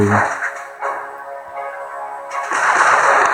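Artillery fire in the video game Mega Crab lands as heavy, booming blasts with a dense rumbling wash, loud and close, swelling again near the end.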